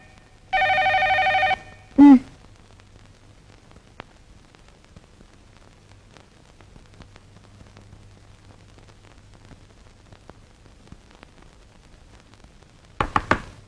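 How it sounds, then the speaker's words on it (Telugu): A telephone rings indoors in a film scene: one loud, short ringing burst near the start, a knock-like thud after it, then near-silence before the ringing starts again at the end. "ఏమిటండి, ఫోన్ మోగుతూనే ఉంది"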